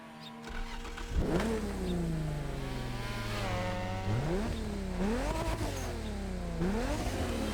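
A Toyota Supra engine in The Crew Motorfest video game revs repeatedly, pitch climbing and dropping through gear-like shifts, loud and steady with no voices.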